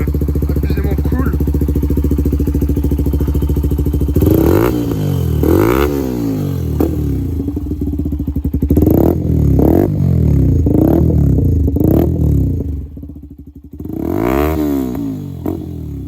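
A Benelli BN 125 motorcycle engine idles steadily, then is revved repeatedly in a series of rising and falling throttle blips, loud and close, with a brief dip toward idle before a final rev.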